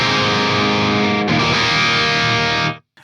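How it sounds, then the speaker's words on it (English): Distorted electric guitar through the blue side of a Synergy Angle Powerball amp module, a thick sustained chord ringing loud and alone for nearly three seconds before cutting off abruptly. "Let's move over to the Angle Powerball module, which the blue side on this module sounds like this."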